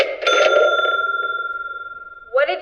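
A telephone rings on a youth theatre stage during a Guys and Dolls Jr. performance, a steady electronic trill that pulses and fades over about two seconds before a voice cuts in.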